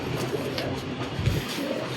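Pigeons perched on a wooden rooftop perch in a Gujarati home give a low, continuous murmur of cooing throughout, fairly close, with a slightly louder coo near the end.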